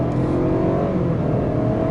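A 2018 Buick Regal Sportback accelerates hard at full throttle, its engine roaring loud and steady from inside the cabin with a continuous rising drone and no talk over it.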